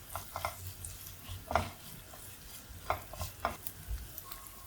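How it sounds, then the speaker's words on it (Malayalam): Ginger garlic paste stirred in a cooking pan for a cauliflower potato masala, a spoon scraping the pan in scattered clicks over a faint, low sizzle. "ഇനി അല്പം ജിഞ്ചർ ഗാർലിക് പേസ്റ്റ് ഇട്ട് കൊടുക്കാം അതും കൂടെ ചേർത്ത് നന്നായിട്ടൊന്ന് ഇളക്കി"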